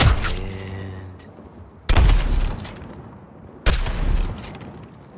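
Heavy gunfire from the Suicide Squad Kill The Justice League video game: three loud booming volleys hit about two seconds apart, each fading into a rumbling tail, with no talking.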